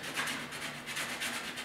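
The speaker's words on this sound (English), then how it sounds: "Now I'm just going to give it a little bit of a sand with some 80 grit." Hand sanding with 80 grit sandpaper over a repaired rock chip on a 1967 Chevy hood produces a steady, rhythmic rasping scrub of back-and-forth strokes, close and continuous with no talk.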